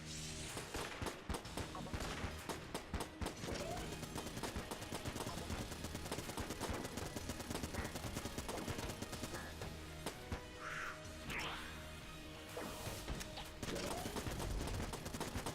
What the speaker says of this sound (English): I'm pretty sure those bullets came from the incorrect spot.